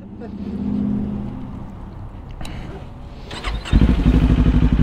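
Kawasaki motorcycle cranks and fires after background chatter and handling noise, settling into a loud, pulsing close-range idle for the last second or so.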